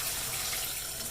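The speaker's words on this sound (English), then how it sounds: "is the tap too noisy?" Kitchen water tap running steadily into a sink, a continuous broadband hiss and splash heard up close and fairly loud throughout, with no voices.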